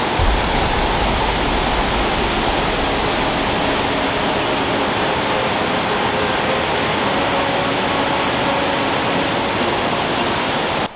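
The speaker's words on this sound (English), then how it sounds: "It's a cool waterfall." Upper Wallace Falls in Wallace Falls State Park roars as a loud, continuous broadband rush of falling water, steady and unbroken from start to finish, with no voices.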